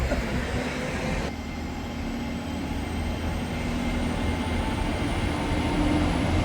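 Transport for Wales train at a station, a steady low rumble and hum of a train idling or moving close by, loud and continuous throughout with no talking.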